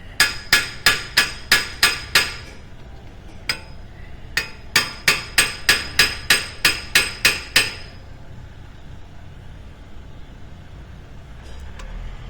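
Sharp metallic hammer blows strike an Audi A3 front wheel hub bearing, ringing loudly and close in two rapid runs of about eight strikes each, with a single stray hit between them, then quiet.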